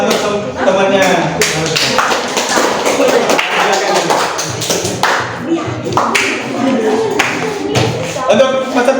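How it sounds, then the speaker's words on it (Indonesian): Classroom audience clapping for a student presenter during a teaching practice session, a dense continuous patter of many hands with a few sharp taps, loud and sustained throughout. "beri aplaus dulu untuk temannya"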